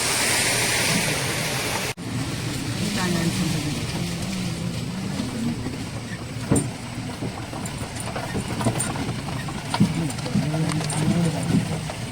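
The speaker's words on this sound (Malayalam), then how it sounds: "നല്ലൊരു വെള്ളച്ചാട്ടമാണ് ഇതിന് മൂന്ന് മുക്കൻ വെള്ളച്ചാട്ടം എന്ന് പേര് പറയും" Moonnu Mukkan waterfall rushing as a steady broadband roar, with faint voices talking over it.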